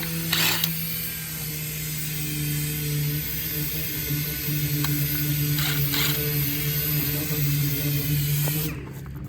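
Long bolts come out of a Peterbilt truck with steady mechanical clicking and ratcheting over a constant hum, a few sharper clanks in between, near and without talk.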